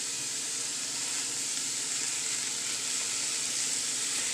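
Meat spread out in a pan sizzles steadily as it fries for a Mexican meal, a dense, even crackling hiss that stays loud and close throughout with no talking.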